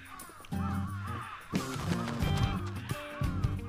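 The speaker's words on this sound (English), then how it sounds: "There's a lot of crows." Several crows caw repeatedly around an abandoned-looking school, harsh calls overlapping in an uneven rhythm, fairly close and clear against a busy background.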